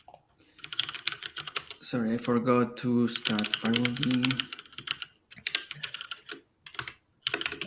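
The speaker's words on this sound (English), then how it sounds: "I appreciate that you have a mechanical keyboard." Mechanical keyboard with Cherry Red switches being typed on in bursts of quick clicks, close to the microphone, with a person talking over much of it.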